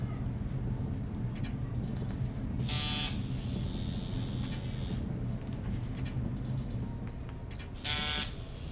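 A tattoo machine hums steadily while tattooing a Bill Murray portrait, a constant close electric drone with two brief louder bursts.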